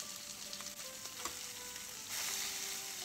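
Chicken marsala meatballs fry in a pan with a steady, close sizzle and crackle that grows slightly louder toward the end, with no talking.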